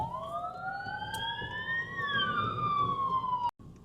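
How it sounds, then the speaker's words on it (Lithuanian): A police car siren wails with a rising, then falling, electronic tone, loud and continuous over traffic noise, cut off abruptly near the end. "O dabar jau ir policija parlėk"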